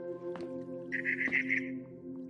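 A barn swallow chirps in the video game What Remains of Edith Finch, giving a brief bright twitter over a steady low hum.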